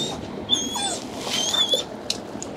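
A police dog whines and yips in short, excited bursts during a raid, close and fairly loud amid echoing indoor noise and scuffling.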